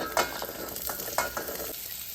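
Bottle gourd pieces fry in a pan of tempering with curry leaves over a low flame, giving a gentle continuous sizzle with two sharper stirring scrapes, close by and without voices.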